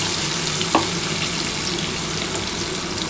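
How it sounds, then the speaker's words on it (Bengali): Frying mustard and poppy seed paste with green chilli in a pan for pomfret curry, a steady close sizzle with a brief splash as a little water is poured in, then continued even frying hiss, no voices. "এর মধ্যে সামান্য অল্প একটু জল দিয়ে ঢেলে দেবো"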